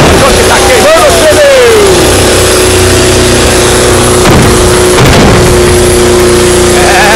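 Zerinho stunt car at a show, its engine revving loud and close while the tyres burn, a sustained roaring drone with a rising then falling pitch sweep, harsh and deafening throughout.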